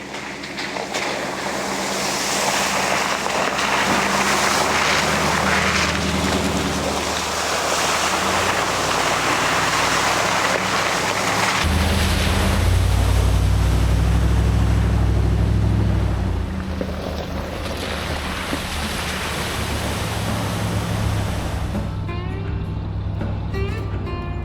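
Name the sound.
heavy camper van driving through rainforest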